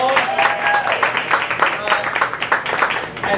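An audience at a football team presentation applauds in a brief burst of dense, steady clapping that fills the short moment, with a voice mixed in.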